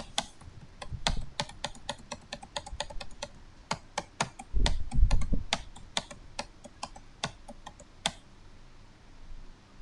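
Keys on a computer keyboard are pressed in a quick, irregular run of crisp clicks with several heavier presses like the Enter key, close and clear, with no talking and the tapping stopping near the end.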